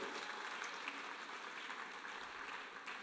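A church congregation applauds the Lord, sustained dense clapping heard from a distance, fairly faint and even throughout.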